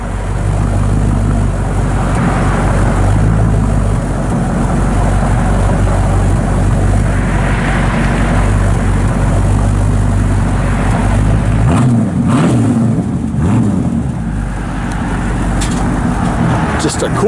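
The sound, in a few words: 1963 Chevrolet Impala engine running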